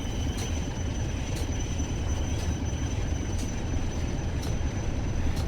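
A model train locomotive from a British nuclear cargo line rolls past with a steady low rumble and rhythmic wheel clicks, close and continuous with no voices.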